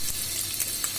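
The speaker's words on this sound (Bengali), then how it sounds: "রসুন পেঁয়াজ কাঁচামরিচ দিয়ে দিলাম। এখন এগুলোকে আমি ভেজে নিব।" Garlic, onion and green chili fry alongside shrimp in a pan, giving a steady, close sizzle with small pops and no talking.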